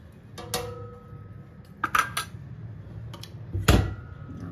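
Jaggery being added to milk in a bowl with a metal utensil for Nabadwip-style mishti doi, giving a few separate clinks and scrapes at moderate level over a quiet kitchen background.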